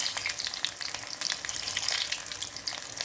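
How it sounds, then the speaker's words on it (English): Chicken burger patties fry in a pan with a dense, continuous crackling sizzle, steady and fairly close throughout. "I'm frying them."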